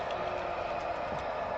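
Model train locomotive sound effect idling on a small loft layout, a steady, even hum with a faint, regular engine pulse and no speech.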